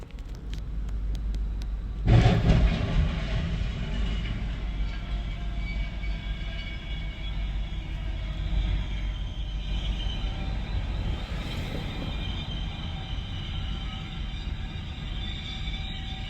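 A train approaching a railroad crossing rumbles steadily nearby, its heavy low roar and rattling wheels filling the air for a long stretch without pause.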